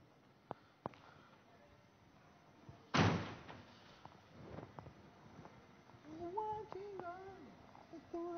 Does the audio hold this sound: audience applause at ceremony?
no